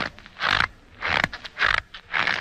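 A box of cornstarch squeezed in walking rhythm imitates footsteps on a snow-covered path: four crunchy, squeaky steps at an even pace, close and fairly loud, with nothing else around them.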